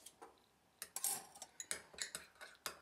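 Yoghurt, mayonnaise and mustard stirred together in a bowl for a mackerel sandwich spread: a steady run of light, sharp clinks and taps of a utensil against the bowl, close and alone without talk.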